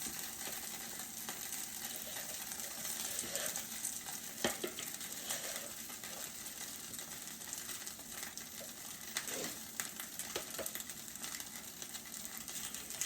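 A second batch of beef tips frying in freshly oiled pan, a continuous close sizzle with scattered crackles and light utensil clicks as pieces are moved, steady for the whole stretch with no talking.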